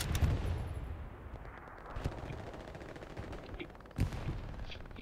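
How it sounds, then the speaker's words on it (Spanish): Gunfire in the World War II shooter Hell Let Loose: a dense, continuous rattle of machine-gun bursts and rifle shots with sharper cracks standing out, loud and sustained throughout. "Están disparando desde encima de los esqueletos de los tanques."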